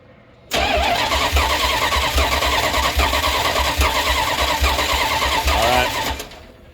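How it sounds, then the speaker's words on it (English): A car engine is cranked over with the starter during a compression test, a loud, continuous rhythmic churning that starts abruptly, runs for several seconds without firing, then cuts off, with no talking. "I'm gonna have my son crank it over real quick"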